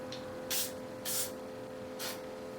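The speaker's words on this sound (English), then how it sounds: "Now I just spray a little bit of" Three short, airy sprays from an aerosol can of gun cleaner lubricant onto an AR rifle, evenly spaced and close by, in an otherwise quiet room.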